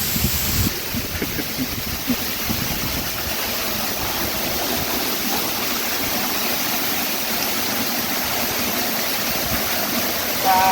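A continuous, loud rushing roar of falling water at Durgapadu Waterfalls, steady and broadband from start to finish.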